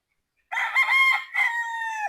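A Sweater-breed gamecock rooster crows loudly and close, one bright strained crow with a short break before its drawn-out final note, after half a second of silence.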